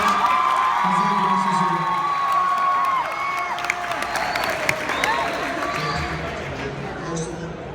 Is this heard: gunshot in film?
no